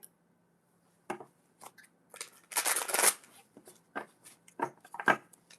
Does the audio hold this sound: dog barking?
no